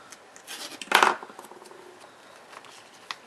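Scissors snip through a strip of duct tape up close, with a short, bright crunch of cutting followed by faint rustling of the tape, with no talking.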